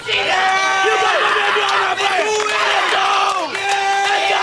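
A crowd behind home plate at a high school softball game between Cedartown and Cass yells and whoops loudly and continuously, with voices rising and falling in long sustained shouts.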